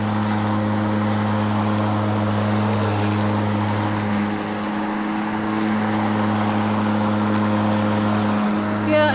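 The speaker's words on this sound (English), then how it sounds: "Right on up without any problems." Mowrator 2WD remote control lawnmower climbing a hill in a yard, its steady motor whine and hum loud and continuous throughout, with a slight dip partway through.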